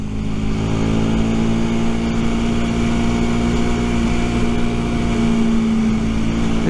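A Rieju Century 125 motorcycle idles steadily, its engine and exhaust producing a loud, constant hum with a strong low tone, close by and uninterrupted, with no voices.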